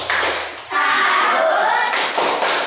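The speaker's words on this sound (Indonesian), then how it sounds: "Sekarang kita beri hadiah tepuk salut." A classroom of pupils performs a rhythmic clapping chant: bursts of patterned hand claps alternate with a short voiced chant, all close and fairly loud.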